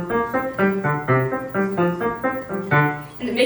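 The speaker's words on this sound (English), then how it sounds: "So the ostinato sounds like this." A piano plays an ostinato, the left hand repeating the same bass line over and over in a percussive, evenly pulsed pattern of short notes, close and clear throughout.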